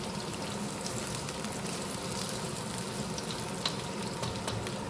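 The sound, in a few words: potatoes sautéing in a pan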